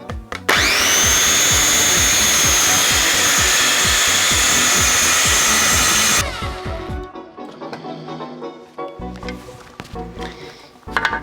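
A circular saw spins up and cuts wood along a guide rail, giving a loud, steady high whine for about six seconds before it winds down into quieter rattling and clatter.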